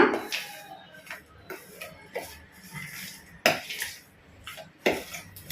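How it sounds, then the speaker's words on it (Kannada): A spoon clinks against a bowl while lemon juice is mixed into a chicken marinade for grilled chicken, with light, irregular taps and scrapes close by and no talking. "ಒಂದು ಅರ್ಧ ನಿಂಬೆ ಹಣ್ಣನ್ನ ಇದಕ್ಕೆ ನಾನು ಹಾಕೊಂತ ಇದ್ದೀನಿ ಹಾಕೊಂಡು ಕ್ಲೀನ್ ಆಗಿ ಮಿಕ್ಸ್ ಮಾಡ್ಕೊಳ್ಳೋಣ"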